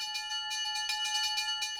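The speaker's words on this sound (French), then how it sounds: "Belle fait sonner sa cloche pour faire coucou aux gens qui attendent sur les quais." A cartoon locomotive's bell clangs in quick repeated strokes, about seven bright metallic rings in under two seconds, close and clear with no talking.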